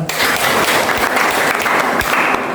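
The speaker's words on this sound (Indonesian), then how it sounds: "kasih tepuk tangannya" Classroom audience clapping together during a university lecture, a dense, steady burst of many hands that stays loud and close throughout without any voices.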